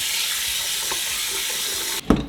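Bulgur rinsed in a strainer set in a bowl under running kitchen tap water, a steady close hiss of flowing water, ending with a brief clatter.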